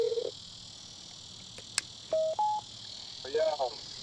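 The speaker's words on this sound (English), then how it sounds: "About to call Wade" A short run of phone dialing tones, a few distinct tonal beeps spaced over a few seconds, as a call is placed on a speaker before answering, quiet and close with faint background hiss.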